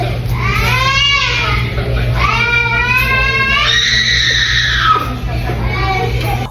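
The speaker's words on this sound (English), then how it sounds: "Screaming baby." A baby screams and wails in repeated rising and falling bursts, loud and close, over a steady low background hum of an indoor space.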